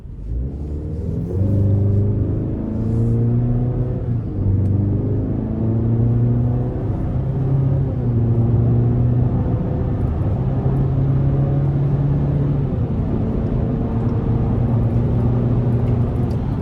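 A 2025 GMC Canyon AT4 pickup pulls hard from low speed, its engine droning and rumbling as it climbs through several gears, each upshift marked by a dip and renewed rise in pitch, heard from inside the cabin.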